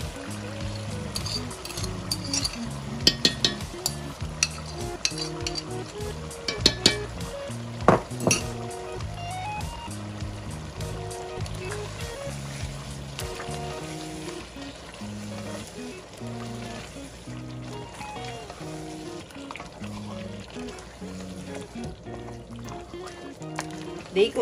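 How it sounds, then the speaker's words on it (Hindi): Beef biryani masala frying with yogurt in a pot, with a steady sizzle, stirring scrapes and occasional clinks of a utensil against the pan, continuous throughout with a tonal background underneath. "दही डालकर हमने इसको अच्छी तरह भुना है।"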